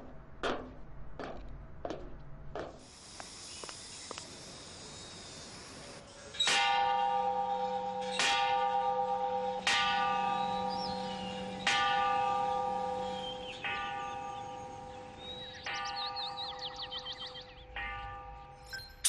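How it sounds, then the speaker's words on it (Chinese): A hand-struck bell at Xiamen University rings out at noon: a series of loud, resonant clangs about two seconds apart, each leaving a sustained humming tone, after softer metallic taps at the start. "我在厦大敲钟，人工的，现在还是人工的"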